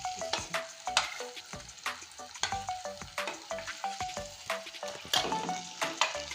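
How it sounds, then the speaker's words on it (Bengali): Okra fried with mustard paste is turned over in a pan, a constant sizzle punctuated by quick, regular clicks and scrapes of a spatula, close and busy throughout. "এবার আমি সুন্দর করে নেড়ে নেব"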